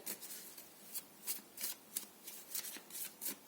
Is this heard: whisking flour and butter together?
no